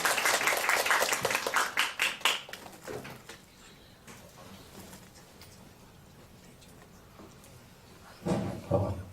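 Audience applause welcoming a teacher to the stage at a bootcamp lecture for education students, a burst of clapping that fades out within a few seconds, followed by quiet room noise and a brief thump near the end.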